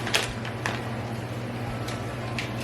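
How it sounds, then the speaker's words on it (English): A washing machine runs in a home kitchen, giving a steady low mechanical hum and drone with a few faint clicks and knocks over it, no talking. "I am washing, so that's all you hear is the washing machine."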